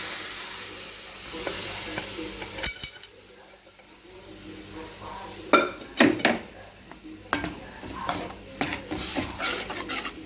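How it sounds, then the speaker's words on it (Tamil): Boiled cowpeas poured with their water into a pot of Tamil-style curry, then stirred: a soft liquid pour and sizzle followed by irregular scraping and clinking of a spoon against the metal pot. "நம்ம வேக வச்சு எடுத்து வச்சுருக்க தட்டைப்பயிரை நம்ம இப்போ இதோட சேர்த்துக்கலாம்"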